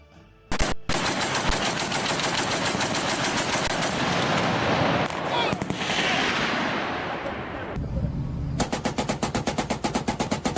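A Browning 12.7mm heavy machine gun on a Philippine Navy vessel fires a long, loud sustained burst of rapid shots, then a short pause, followed by a quicker series of distinct close reports.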